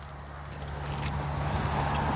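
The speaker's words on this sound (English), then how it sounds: "A lanyard with keys and half a floaty." Keys on a lanyard jangle in a few brief metallic shakes over a low steady hum, close and moderately loud, with no speech.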